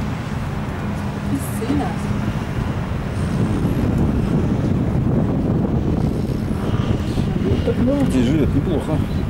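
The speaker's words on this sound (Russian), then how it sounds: "Вот такой вот у нас ветер." Strong wind at Gibraltar buffets the microphone in a steady, roaring rush, with a low rumble beneath and no let-up throughout.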